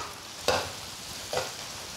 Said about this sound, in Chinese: 稍有煸炒之后，加入酸菜和酸姜